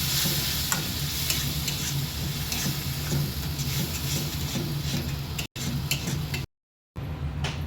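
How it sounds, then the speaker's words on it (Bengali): Fish curry with freshly added yogurt bubbles and sizzles in a kadahi while a spoon stirs it, a continuous close frying hiss with soft scraping, briefly cut out near the end. "দইটা দিয়ে একটু নাড়িয়ে চাড়িয়ে নিই।"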